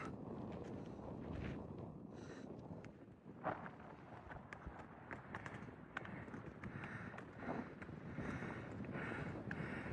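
Wind gusting across an exposed mountain cliff top on a night hike at McAfee Knob, a steady broadband rush buffeting the microphone with faint scattered thumps and no talking.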